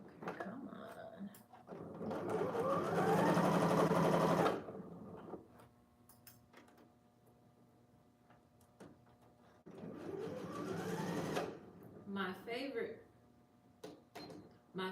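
A sewing machine stitching a corset dress seam runs in two long, loud bursts separated by quieter handling sounds of fabric and small clicks.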